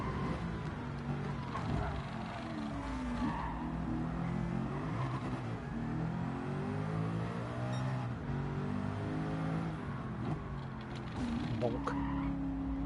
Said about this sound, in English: Merc does their best work when they've got a big lazy V8